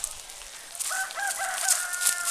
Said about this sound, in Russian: А петушок все кричит.